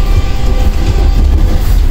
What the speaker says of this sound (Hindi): इस वक्त ट्रेन पास हो चुकी है लाहौर कैंट रेलवे स्टेशन से